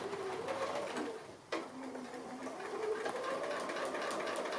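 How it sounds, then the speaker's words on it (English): Sewing machine stitching a small mini snap stocking, a soft continuous whirring hum of steady stitches with a brief pause partway through, fairly faint, alongside pigeon-like cooing in the background. "And I'm just going to start stitching again, just down from the top, because then I can snip those ends off."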